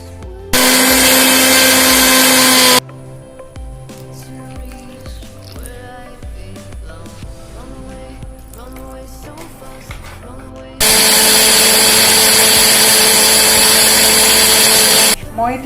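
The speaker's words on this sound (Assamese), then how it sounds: "এয়া মই এতিয়া গোটেইখিনি গুড়ি কৰি লওঁ মিক্সিত।" A mixer grinder pulverizes roasted whole cumin, coriander and dried red chillies in two loud bursts of whirring motor noise, with quieter kitchen sounds and faint tones in the gap between them.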